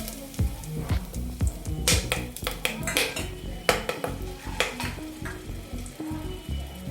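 Bay leaf and cinnamon stick frying in a small amount of hot oil in a pan for chicken kurma, a steady sizzle broken by repeated clinks and scrapes of a metal spoon against the pot.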